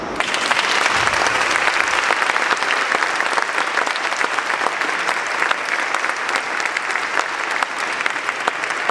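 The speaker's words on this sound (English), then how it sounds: "And an applause for Ms. Forsman" An audience applauding after a speech at a tourism event, sustained dense clapping that carries steadily for the whole stretch with no talk over it.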